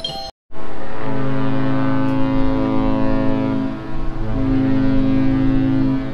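A deep cruise ship horn blasts loud and long as the ship departs the Port of Los Angeles, holding a steady low tone that dips briefly and resumes, booming across the harbor with no voices.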